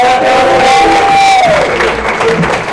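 Comedy club audience at the Ice House cheering and whooping at the end of a stand-up set, a loud, dense burst of crowd noise with shouts and a rising whistle, heard alone.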